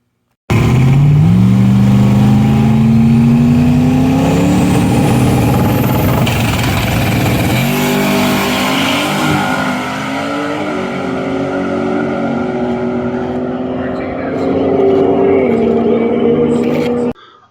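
Holley EFI-tuned race car engine revving hard, pitch climbing through several throttle sweeps, loud and close for nearly the full stretch before cutting off abruptly at the end.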